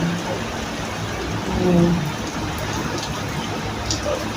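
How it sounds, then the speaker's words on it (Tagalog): Heavy rain pours steadily in a dense, continuous hiss close by, with one brief voice exclaiming partway through. "Grabe, ang lakas ng ulan."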